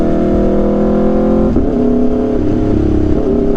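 Aprilia RSV4 motorcycle with an SC-Project CRT exhaust revving on a short rainy ride, a loud, steady droning engine note with a brief pitch dip and recovery midway, close and continuous.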